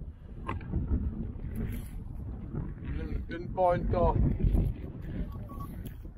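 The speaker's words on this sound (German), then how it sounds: "heute ist extrem windig hier" Strong wind buffets the microphone outdoors during metal detecting with a pinpointer, a constant low roar with gusts rising near the end, while someone talks over it.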